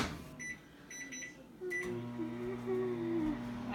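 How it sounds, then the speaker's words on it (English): A kitchen microwave oven, reheating potatoes for loaded baked potato soup, gives several short high beeps as it is set, followed by a person talking nearby while the oven starts running. "I'm going to stick these back in the microwave."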